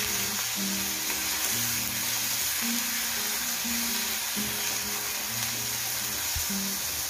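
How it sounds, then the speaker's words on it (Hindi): Onion and tomato frying in a pan give a steady, even sizzle throughout, with a melodic music bed running underneath and no talking. "2 मीडियम साइज के टमाटर लिए हैं। अब इसको हम अच्छी तरह से भून लेंगे।"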